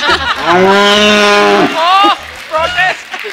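A buffalo moos in long, drawn-out, wavering calls during a comedy talk show, with a shorter call near the end. A voice talks in the background.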